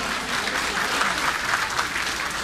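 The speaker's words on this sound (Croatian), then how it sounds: "pozdravite i nju aplauzom" An evening gathering's audience greets a guest with sustained, even applause. Many hands clap in a thick, continuous wash with no voices standing out.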